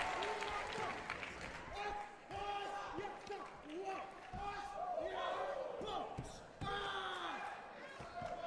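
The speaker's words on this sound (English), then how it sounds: "you still get a reaction from the crowd" An arena crowd at the US Open 2023 men's weapons baton twirling event cheers and applauds a trick in swelling bursts, with a commentator talking over the noise.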